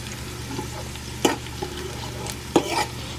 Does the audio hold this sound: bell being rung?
no